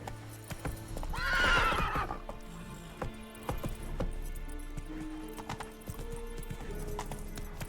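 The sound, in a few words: Roach the horse neighing and trotting in The Witcher 3 video game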